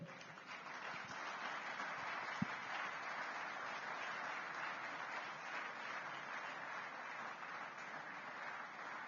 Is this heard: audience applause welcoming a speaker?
yes